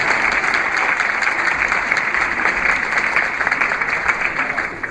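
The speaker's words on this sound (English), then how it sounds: "Give yourself a round of applause." Classroom audience at a language-teaching workshop applauds, a dense, steady burst of clapping from many hands, close and loud, holding evenly for about five seconds.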